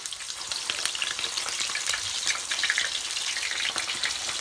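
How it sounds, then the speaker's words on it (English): Salt fish pieces fried in hot oil, a loud, close, continuous bubbling sizzle with scattered sharp crackles and pops, no voices. "now we're gonna get ready to drop these in the oil, which I already have some oil over here that's already hot"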